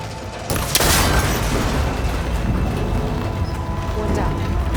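In Horizon Forbidden West, an arrow strikes and snaps a cable connector on an old tower with a sharp crack and heavy boom, followed by a loud rumbling crash that fades over ongoing game sound.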